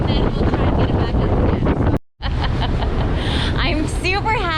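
Strong gusts blast across a sailboat on Lake Okanagan in rough, wave-tossed conditions, a loud continuous roar of wind on the microphone broken by a brief dropout, with faint voices briefly audible near the end.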